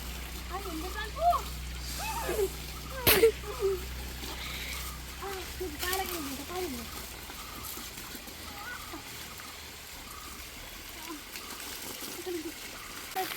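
Water from a stream rushes and trickles steadily through a pipe in Kerala while people talk over it, with a sharp knock partway through.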